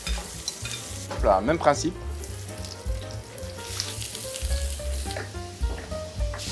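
Vegetables for a ratatouille sizzle and crackle as they fry in hot oil, with stirring surges in the middle, and a voice speaks briefly over the steady frying.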